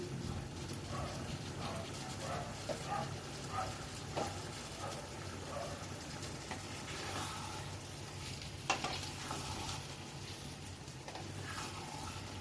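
Pointed gourd sautéing and being stirred in a pan with a little salt, a low continuous sizzle under scattered spoon scrapes and stirring noises, with a dog barking faintly somewhere in the background.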